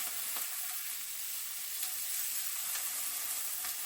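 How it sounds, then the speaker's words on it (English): Garlic fries in a pan of an Italian kitchen with a bright, steady sizzle, close and continuous, broken by a few faint clicks of a utensil, with no talk. "I'm going to add in my garlic."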